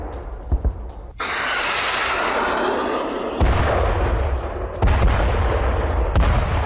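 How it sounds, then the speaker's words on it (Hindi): A series of heavy explosions from a Kinzhal hypersonic missile strike in western Ukraine, several loud booming blasts and rumbling bursts that follow one another closely, with no speech over them. "एक कतार से आपको कई धमाके, ये देखिए आप, कई धमाके होते हुए नजर आएंगे।"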